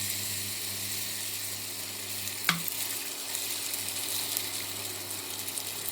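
Cut potatoes fry in oil with a steady crackling sizzle, a low electrical hum underneath and one sharp clink midway, no voices.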